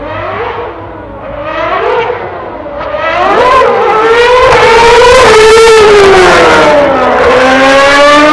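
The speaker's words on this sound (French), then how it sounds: "Écoutez bien, rentrer ses vitesses, c'est quelque chose d'inouï." A high-revving Formula One car engine at Paul Ricard screams up through the revs, with pitch dropping sharply at each gear change, loud and close.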